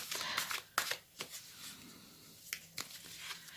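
A deck of tarot cards shuffled close by, with several sharp riffling bursts separated by brief pauses and soft handling sounds in between.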